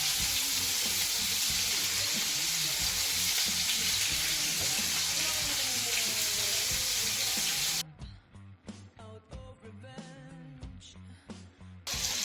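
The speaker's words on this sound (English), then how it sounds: "Now that our oil has heated up, brown the meatballs and make sure to turn them regularly" Meatballs browning in heated oil in a frying pan give a continuous sizzle, with background music running over it and dropping away near the end.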